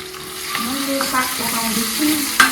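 Greens sizzle and crackle in a hot pan while being stirred, a close continuous frying hiss with a few scraping knocks.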